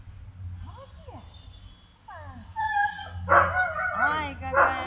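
Young puppies, under two months old, whimper and yip in high, rising whines and short squeaky cries, close by, while a person talks softly over them.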